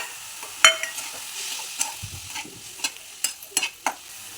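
Boiled corn kernels are stirred and mixed with spices in a bowl or pan, giving a series of irregular scraping clinks and soft knocks over a quiet background.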